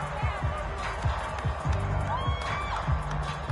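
A football stadium crowd cheers and applauds the defense in a steady, dense roar, with scattered shouts and whoops rising above it.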